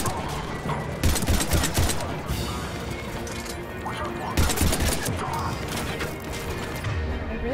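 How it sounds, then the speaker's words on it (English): Shotgun fire in the video game Mass Effect 3, heard as dense, loud bursts of blasts and mechanical clatter amid busy combat noise, with a stronger cluster of shots near the start and another midway. "That's a shotgun."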